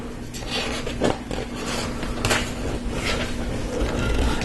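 Lego Technic pieces from the Porsche 911 GT3 RS set #42056 being pushed together, a spacer slid onto an axle, giving soft plastic clicks and ratcheting over a steady background hum, with a couple of sharper snaps.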